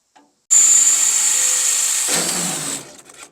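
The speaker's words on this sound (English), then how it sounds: "we're going to drill a couple holes in this thing to attach it to that piece" A power drill whines steadily for a couple of seconds, close and loud, its pitch dropping briefly near the end as it bites through metal on a rusty Ford pickup bed.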